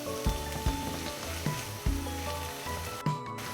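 Two ingredients are stir-fried quickly in a pan, giving a constant sizzle. Scattered knocks of a utensil against the pan punctuate it, with no voices.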